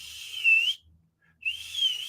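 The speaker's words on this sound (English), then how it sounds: "I whistle for them, and the cats in the neighborhood know." A person whistles to call neighborhood cats: two drawn-out, rising whistles separated by a short pause, close and clear with no other sound.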